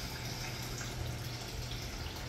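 Water from a pump pours steadily into a home aquarium tank for discus fish, a constant dense rushing wash with no pauses and no voices.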